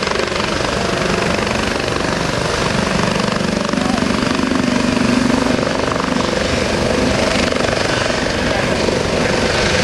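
A US Coast Guard HH-65 search-and-rescue helicopter at an air show demonstration roars loudly and steadily as it lifts away, its rotor and turbine filling the whole stretch without letup.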